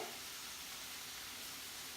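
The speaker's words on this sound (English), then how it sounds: "That's sizzling an awful lot over there, isn't it?" Steady, dense sizzling of fajitas frying in a copper pan, a continuous crackling hiss with no pauses and no voices.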